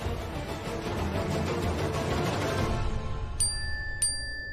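Two short bright phone notification dings ring out one after another over muffled background voices.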